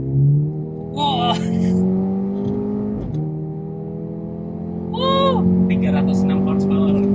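A 2020 Mercedes-AMG A 35 4Matic's 306-horsepower four-cylinder engine in Sport Plus mode with exhaust valves open hums steadily from inside the cabin, with two brief rev rises and a steady drone beneath.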